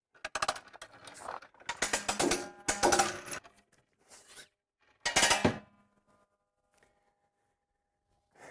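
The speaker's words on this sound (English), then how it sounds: "pull out all the hose and stop the hose reel on its ratchet" A hose reel on an SDX unit is pulled out and stopped on its ratchet, giving bursts of close mechanical clicking and rattling between short pauses, with a few fainter clicks near the end.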